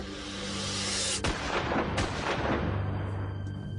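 Heavy booming gunfire cracks through a dense, rumbling roar, with a couple of sharp reports standing out before the noise slowly thins.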